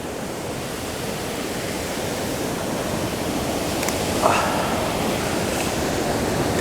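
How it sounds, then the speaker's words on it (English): Waterfall in Killarney National Park, heard from close by as a steady, broadband rush of falling water that fills the whole clip without a break. "I can almost shoot from behind the waterfall and out onto the canopy"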